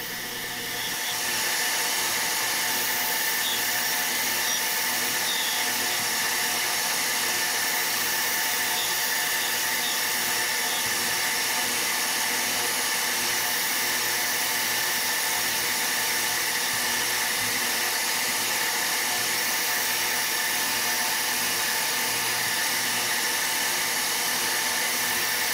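Metal lathe turning the finished diameter of a tool holder for a shaper boring bar, heard as a steady loud machine whir and hiss that runs unbroken at close range without speech.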